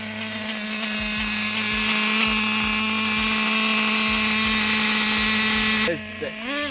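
A Traxxas T-Maxx 2.5 nitro RC truck engine idles close by with a steady, high, buzzing drone and a faint pulsing underneath. It holds for about six seconds before the note drops and wavers near the end.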